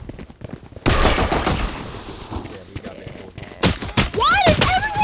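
Loud gunfire and action sounds from a Valorant match, bursts of shots with chirping effects near the end and a voice talking underneath.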